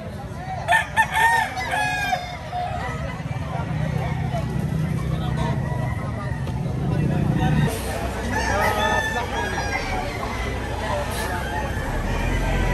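Roosters at a chicken market in Batangas crow repeatedly, several birds overlapping near and far, with clucking and a busy crowd murmur beneath. People talk throughout, and a vehicle rumble builds toward the end.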